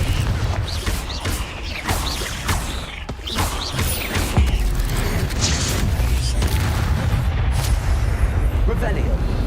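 A Confringo fire-blast spell in the video game Hogwarts Legacy, heavy booming explosions and crashing impacts over a dense rumbling bed of game noise, with a voice talking over it.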